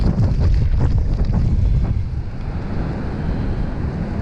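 Strong wind on the central Oregon coast in January buffeting the microphone, a loud continuous roar close by with surf-like rumble, easing slightly midway, with no talk.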